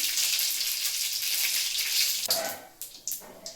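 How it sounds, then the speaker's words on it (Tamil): Mustard seeds fry and pop in hot oil with a continuous close sizzle, followed by a few sharp crackling bursts near the end. "என்ன பொறி பொரியுது"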